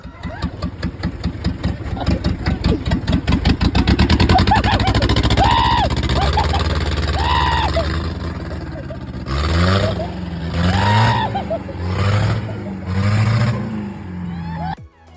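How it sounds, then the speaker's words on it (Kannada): An old Mahindra jeep engine cranks with rapid rhythmic chugging, catches and settles into a loud, close, rough idle with uneven revving, while voices talk over it. "ಫೈನಲಿ ಗಾಡಿ ಸ್ಟಾರ್ಟ್ ಆಯ್ತು. ನೋಡ್ರಿ ಸೌಂಡ್."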